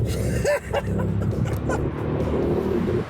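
Volkswagen up! GTI engine held at full throttle through a tight mountain-road hairpin, a steady loud in-cabin drone with a brief dip early on and faint talk over it.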